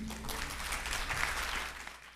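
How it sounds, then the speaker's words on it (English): An audience's applause welcomes a speaker to the podium at a memorial lecture on the media landscape, a steady wash of hand claps that holds at an even level throughout. "Ladies and gentlemen, let's all give a warm round of applause to Mr. Joseph D."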